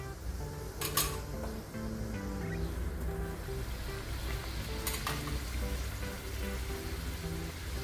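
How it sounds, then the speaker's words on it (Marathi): Tilori, sweet dough pieces for Makar Sankranti, fry in oil over low to medium gas, giving a steady close sizzle and bubbling throughout with a couple of brief clinks. "लो टू मीडियम गॅसवर चांगल्या छान अशा तळून घ्यायचे."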